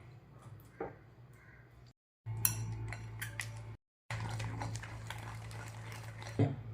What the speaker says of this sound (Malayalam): വിസ്ക് വെച്ചിട്ട് ഇത് നല്ലോണം മിക്സ് ചെയ്തെടുക്കണം.